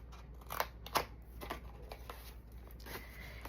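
Scissors snipping cardstock for a Halloween paper craft, several quiet, crisp cuts at irregular intervals, close and soft with no talk.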